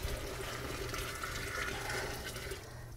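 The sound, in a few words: water poured from a pot into the sink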